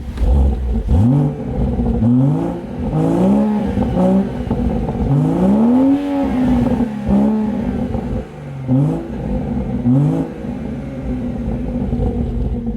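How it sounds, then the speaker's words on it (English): A BMW M140i's inline-six engine revved repeatedly, each rev climbing sharply then falling back to idle, loud and close with a rough rumble between blips. "The car's already warm, might as well give it a few revs."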